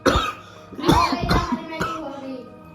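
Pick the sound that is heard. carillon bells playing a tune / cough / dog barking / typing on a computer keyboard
cough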